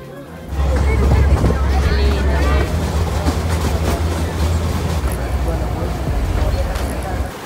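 A tourist train at Iguazu Falls on the Argentine side rumbles loudly and steadily close by, a continuous low engine and rail drone, with someone talking over it.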